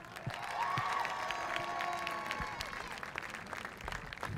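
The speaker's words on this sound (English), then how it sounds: "And a nice round of applause for our athletic trainer," Crowd applause and cheering at a school pep rally in a gym, a steady mass of clapping held at a moderate level, with a tonal hum of chatter and ringing sounds beneath it and no clear speech.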